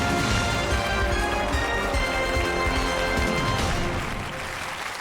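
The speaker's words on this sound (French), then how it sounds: "Le public vous applaudit, je vous félicite." A studio audience applauds on a French TV quiz show: loud, dense, steady clapping that lasts several seconds and eases off slightly at the end.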